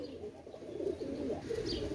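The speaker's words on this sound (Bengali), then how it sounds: "দেখেন ভিউয়ার্স এটা হচ্ছে গলায় লাল, সাদাটা গলায় লাল কবুতর মাশাল্লাহ" A white pigeon with a red neck coos in low, warbling rising-and-falling phrases, close and moderately soft, with no talking over it.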